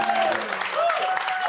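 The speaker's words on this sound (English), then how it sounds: "Give him a round of applause." Studio audience clapping steadily through a brief stretch of applause on a live television show, with a presenter's voice mixed in over it.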